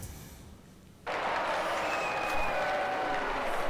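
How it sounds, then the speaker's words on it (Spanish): Applause erupts abruptly after a second of quiet, a loud, dense burst of clapping from a crowd that holds steady to the end. "¡Aplauso!"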